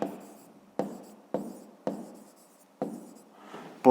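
A pen scratches out a cube's surface area in a fifth-grade math exercise: five or six distinct close strokes, each starting sharply and trailing off, with brief pauses between and no voices.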